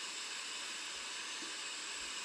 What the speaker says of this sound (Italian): sono disponibili il rumore rosa,